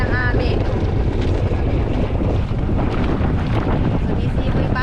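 Strong wind roars steadily against the microphone on a boat, a loud continuous buffeting rush with a low rumble underneath.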